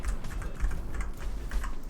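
Fast, close typing on a HyperX Alloy Origins keyboard with red linear switches: a dense run of light, even key clicks and thocks over a low background hum.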